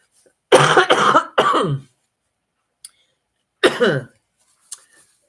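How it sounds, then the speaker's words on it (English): Several sharp, harsh coughs in a quick burst, followed after a pause by another single cough and a faint throat click, close and loud. "There's a nasty cough going around,"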